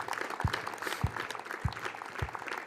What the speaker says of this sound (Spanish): De un fuerte aplauso al Señor.